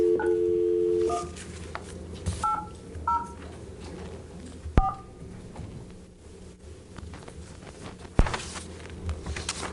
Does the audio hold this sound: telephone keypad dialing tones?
yes